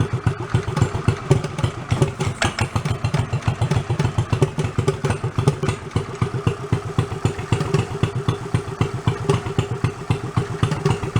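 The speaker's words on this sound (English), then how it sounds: "When you guys want to rev that throttle for me? There it goes." A custom motorcycle engine just after a cold start, loud and close with a rapid, uneven lumpy pulsing and mechanical clatter that holds steady throughout, no voices heard.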